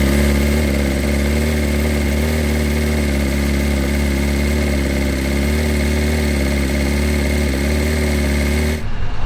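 2025 BMW S1000RR motorcycle holding a high, steady cold-start idle around 2,500 RPM, a loud, close, even engine drone with no talking, cutting off abruptly near the end.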